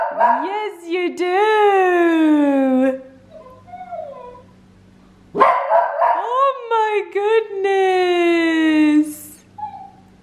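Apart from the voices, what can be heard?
dog barking for toys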